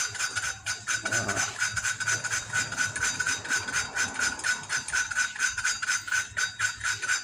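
An engine valve is lapped against its seat by hand, making a rhythmic, gritty scraping that repeats about twice a second, close and steady, with no voices.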